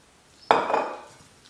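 A single sharp clink of a utensil against a bowl while mixing cheese and olive oil into pesto, close and brief, then quickly fading.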